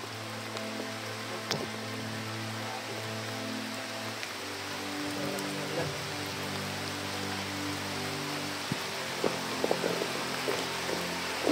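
Steady rain pours down in a continuous, even hiss with occasional heavier drips and patters, and no voices.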